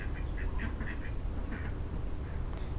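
Farm ducks quack in a series of short, nasal calls over a steady, loud background rumble, the quacks fairly close and clustered in quick groups.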